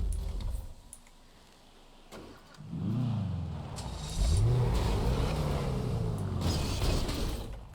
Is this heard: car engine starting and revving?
yes